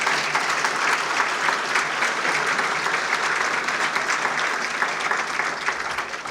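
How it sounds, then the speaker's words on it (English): Sustained audience applause at a chamber of commerce state-of-the-region gathering, dense and steady clapping from a large crowd lasting several seconds and tapering slightly at the end. "big round of applause?"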